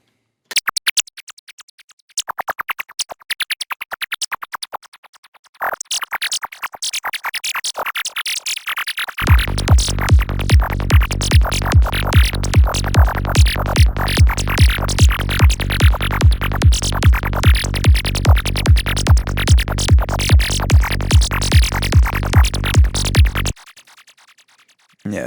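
A Sylenth1 synth preset called Filter freak plays weird filter-FM tones, first choppy bursts, then a loud, steady stream of rapid pulsing notes for over ten seconds before cutting out.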